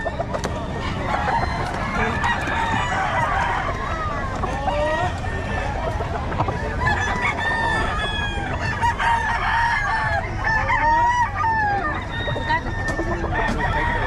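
Several roosters crowing again and again at a busy rooster market in Bocaue, their calls overlapping over dense crowd chatter and background noise, loud and close throughout.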